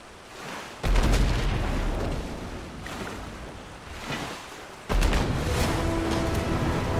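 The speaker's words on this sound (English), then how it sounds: "the sound effects were satisfying, especially the cannon firing" Cannon fire from a pirate ship in the game King of Seas: two deep, heavy booms, each followed by a sustained rumbling roar over washing waves, with nobody speaking.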